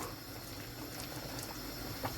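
Bitter leaf soup (ofe onugbu) bubbling and simmering in a pot, a steady soft gurgling hiss with faint pops, fairly quiet and continuous.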